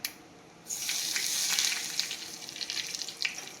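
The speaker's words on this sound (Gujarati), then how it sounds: "તલ નાખો એટલે ફૂટશે ઉપર." Sesame seeds and curry leaves drop into hot oil for tempering and burst into a loud, steady sizzle after a quiet start, crackling with small pops as the oil spits, no voices.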